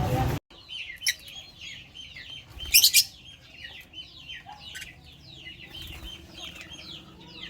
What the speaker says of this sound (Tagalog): May sisiw na naman tong lovebird natin.